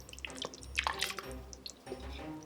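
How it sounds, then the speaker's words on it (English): Whipping cream poured into paneer butter masala gravy in an Instant Pot, heard as soft wet drips, splashes and gloopy liquid sounds close by with no talking. "And then the rest of your whipping cream we're gonna pour in."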